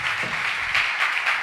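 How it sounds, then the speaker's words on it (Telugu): A church congregation at a Sunday service claps loudly together, a brief dense burst of applause from a crowd. "పరిశుద్ధాత్మ దేవునికి అందరూ గట్టిగా చప్పట్లు కొడదాం."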